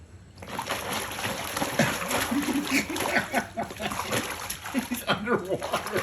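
A pet duck splashes and dunks its head in a foot soak tub indoors, making continuous close sloshing and dripping water sounds while people talk quietly over it.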